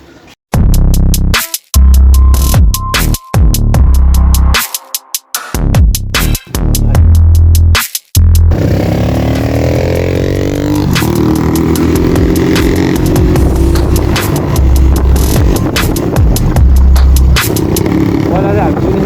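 After several seconds of talking, a dirt bike engine heading off-road starts up close and runs loudly and steadily, with shifting revs.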